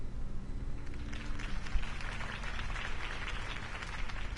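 A crowd applauds after Harvey Dent's campaign speech in the Batman Telltale video game, a fairly faint, steady wash of clapping over a low rumble, with no speech on top.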